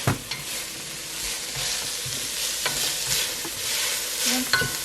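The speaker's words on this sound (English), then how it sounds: "Meat's still simmering over there. Let me go ahead and give it a stir." Ribeye steak strips for a stir fry sizzle loudly in a pan while being stirred, a dense, steady frying hiss punctuated by a few scraping clicks of the utensil.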